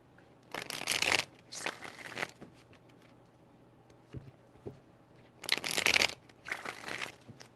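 Tarot cards are shuffled in four quick crisp bursts, two pairs of riffling rustles separated by a pause with a couple of soft taps, close and clear with no talking.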